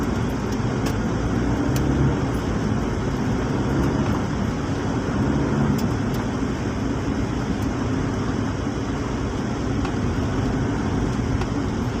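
Inside a borrowed car cruising along Legazpi Boulevard in Legazpi City, a steady engine and road rumble fills the cabin, continuous and even with faint ticks, and nobody speaks.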